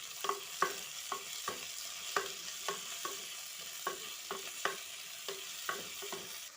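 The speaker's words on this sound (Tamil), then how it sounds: "இப்போ பாருங்கள், தக்காளி வெங்காயம்லாம் வதங்கிருச்சு." Tomato and onion sauté in a pan while a spoon stirs them, giving a dozen or so distinct scraping clacks in an irregular rhythm over a faint, quiet sizzle.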